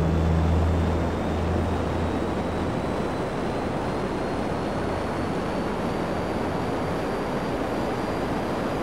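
A jet aircraft in GTA V Online roars as a constant, loud, wide rushing drone that holds steady throughout, with a faint low hum at the start.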